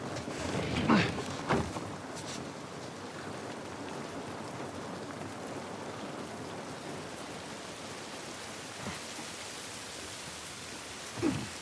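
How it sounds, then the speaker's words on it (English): Rain falling outdoors in The Last of Us Part I on PS5, a steady broad hiss of downpour on surfaces throughout, with a few sharper splashes and thumps near the start and end, no voices. "This rain ain't gonna do us any good."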